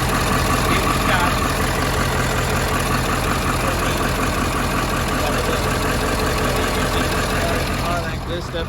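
A big diesel engine idles in an F-150 pre-runner truck at an auto auction, a loud, dense, steady rumble with knocking texture, partly mixed with talk nearby.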